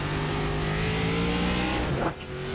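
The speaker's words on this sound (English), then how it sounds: "Once I get into third gear here, though, I think it gives a little bit more pop up the hill." An ARCA race car in third gear climbs the hill at Lime Rock in a racing game, its engine holding a loud steady high drone before a quick shift-like dip near the end, with no voices.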